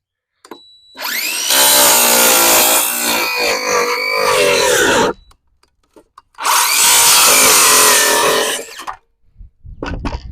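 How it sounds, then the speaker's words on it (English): A circular skill saw whines up and cuts through wood in two long, loud bursts close by, spinning down between them, with brief quiet gaps. "I don't know how to use the skill saw. I'm probably about to go through the dirt."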